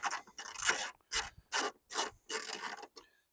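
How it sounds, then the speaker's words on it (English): A wrench loosens bolts on a ditch light bracket on a Ford Transit camper van, giving five or six short, close rasping ratchet strokes separated by brief pauses. "So I'm going to loosen these up."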